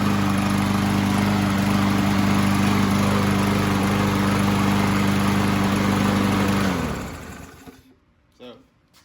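A 140cc Briggs & Stratton engine on a 2017 Yard Machine lawn mower with a dirty carburetor runs loudly and close with a steady hum, then winds down and stops near the seven-second mark, followed by quiet rustling.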